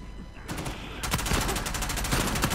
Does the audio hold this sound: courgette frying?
no